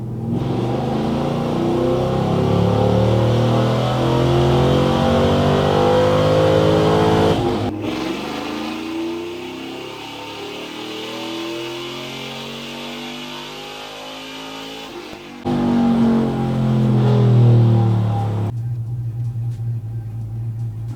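A Texas Speed Stage 4 Chevrolet Silverado with a 5.3 V8 revs hard on a chassis dyno, rising through long pulls in three loud runs, the engine note climbing steadily, then cutting off before the next pull.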